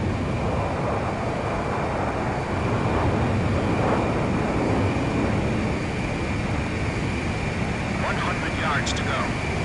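A fighter jet in the Ace Combat 5 video game flies toward a refueling aircraft, its steady, dense engine roar filling the scene while radio voices talk over it.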